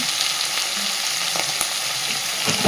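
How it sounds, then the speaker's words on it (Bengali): Spice masala sautéed with a fish head in a pan, giving a steady, close frying sizzle with light crackles, alone and with no talking. "এবার মশলাটাকে খুব সুন্দর করে কষে নিতে হবে মাছের মাথার সাথে।"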